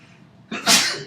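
A single loud, close sneeze bursts out after a brief quiet intake of breath, sharp and explosive before trailing off, in a classroom setting.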